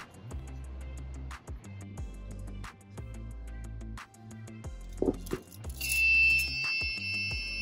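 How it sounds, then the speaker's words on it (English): A homemade capacitive touch button with a tinfoil sensor plate beeps when someone gets up from a desk chair. Repeated short electronic beeps sound over a low buzzing hum, and a longer, steadier alarm tone rises near the end. "when I get up, because I'm trying to procrastinate, it beeps, telling me to get back to my chair"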